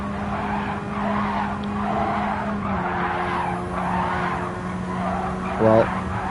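A Radical race car in a racing game at Road Atlanta drifts with a steady engine drone and continuous skidding tire squeal, ending in a brief louder burst.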